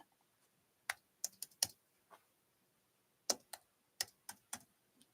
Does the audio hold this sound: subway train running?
no